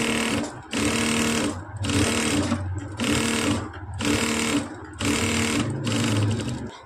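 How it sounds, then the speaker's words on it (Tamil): An electric sewing machine stitches a blouse sleeve along its lining in loud, close bursts of rapid whirring needle clatter, about six runs separated by brief pauses, with no talking. "இப்போது லைனிங் அளவுக்கு அப்படியே மேலே தையல் போட்டு எடுத்துக்கலாம்."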